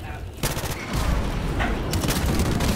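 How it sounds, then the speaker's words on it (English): Shipment map in a first-person shooter erupts with dense gunfire and airstrike explosions, a loud, chaotic barrage of overlapping booms and rapid shots lasting throughout, with a player's voice talking over it. "Coming now, airstrike coming."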